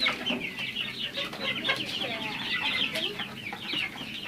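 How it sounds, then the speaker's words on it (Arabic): Chickens cluck continuously on a rooftop poultry farm, a busy flock of hens close by at steady volume, with occasional sharper calls rising over the chatter and no talking. "وده الفراخ عندي"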